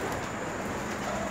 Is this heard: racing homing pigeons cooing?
yes